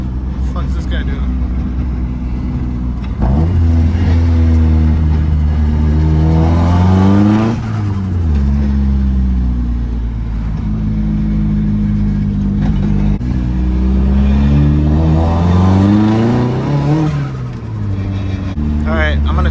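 Car with a one-piece drive shaft accelerating hard through several gears, its loud engine note climbing and dropping in repeated sweeps, with a person talking over it.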